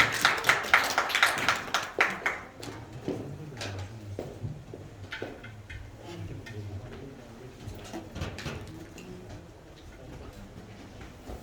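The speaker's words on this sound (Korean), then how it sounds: "박수 하면서 흩어질게요." Church group members clap together as they get up to disperse into small groups after a Sunday announcement, a burst of close claps in the first two seconds fading into scattered taps, shuffling and chatter.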